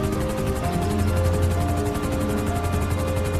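An animated helicopter in the mobile game Gulli Bulli Aur Zombies gives a steady, rhythmic rotor chop over a constant engine drone, loud and unbroken throughout.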